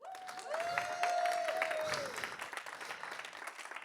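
A church congregation claps and cheers for Jesus in a dense, sustained burst of applause, with a sung or held vocal tone over the first half before the clapping thins out.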